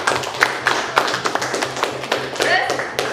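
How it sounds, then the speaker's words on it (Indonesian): A group of people clapping together gives a run of sharp, fairly regular claps, with voices audible alongside. "Tepuk tangan dong buat kita semua."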